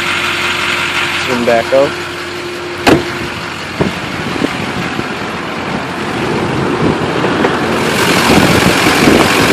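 A 6.6L Duramax diesel engine idles steadily in an extended-cab, short-box, four-wheel-drive Chevrolet K2500 LS pickup, its low continuous rumble running throughout while someone speaks briefly near the start over a few clicks and knocks.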